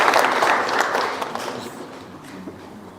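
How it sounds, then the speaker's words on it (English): Audience applause at a talent-style show, a broad wash of clapping that starts fairly loud and slowly thins and fades over three seconds, with no talk over it. "Big round of applause"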